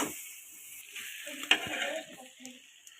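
Brinjal being stirred with vangi bath powder in a pan: a faint, soft sizzle with light scraping, one small utensil tap midway, quiet and close without voices.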